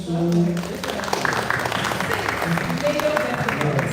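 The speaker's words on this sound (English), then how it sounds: "Oh, clap for him." Scattered audience clapping at a film festival talk, moderate and somewhat sparse, running beneath a voice speaking over it.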